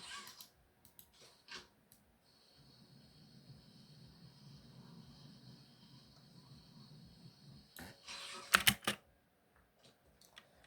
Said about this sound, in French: C'est dingue le son qui fait mon clavier.